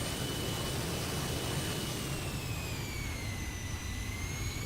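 A jet airplane engine in a flight simulator video game drones loudly and steadily, its high whining tones slowly sliding as the throttle shifts, with no talking.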